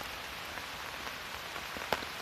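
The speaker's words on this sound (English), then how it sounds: "Here it's pouring a little harder now." Rain pours steadily onto a tarp in the woods under trees during a solo overnight camp at Wild River State Park, a soft constant patter with occasional louder drops, heard alone.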